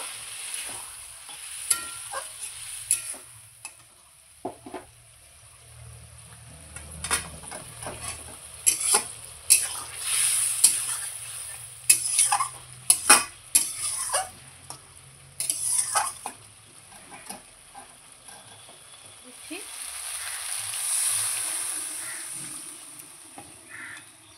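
Puti fish chorchori masala being stirred and fried with spice-rinse water in a pan, a steady soft sizzle under repeated scraping stir strokes, with faint crow caws in the background and no talking.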